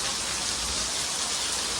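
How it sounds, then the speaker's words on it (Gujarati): Monsoon rain falls steadily, a dense, even hiss of drops on surfaces that fills the whole short stretch with no voices. "વરસાદ ચાલુ થઈ ગયો"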